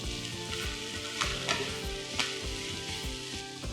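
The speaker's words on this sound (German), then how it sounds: "Dann kommen die weißen Chinakohlstreifen dazu. Kurz braten." Carrot and white Chinese cabbage strips stir-frying for fried noodles, a dense continuous sizzle close up with a few sharper spatula scrapes and knocks against the pan, no talking.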